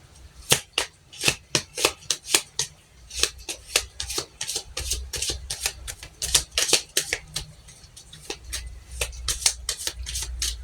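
Playing cards shuffled by hand, a run of crisp riffling bursts repeated several times in a steady rhythm, close and clear with no talk over it.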